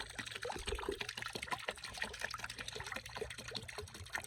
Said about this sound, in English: Now throwing water away